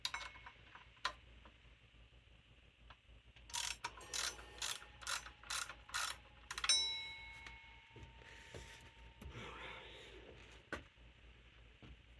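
A ratchet wrench clicks in quick bursts while removing the power steering pump bolts on a Mopar 318 V8, followed by metallic clinks and a ringing tool tap, close and fairly quiet.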